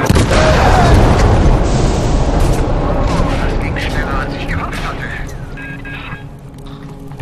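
Loud, deep explosions boom and rumble in a theater area of the video game Bioshock, starting heavy and slowly fading as debris clatters, with no talking.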